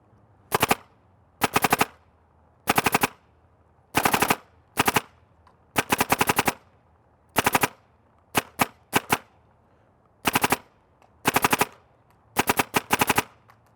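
Empire Apex 2 paintball marker fired in ramp mode, loud rapid bursts of sharp pneumatic shots in repeated strings of several rounds each, separated by short pauses, with no talking.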